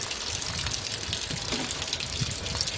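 Mountain spring water runs steadily as seedlings of cacao and caxi are watered, a loud continuous gushing and splashing with no pause, close by and without talk.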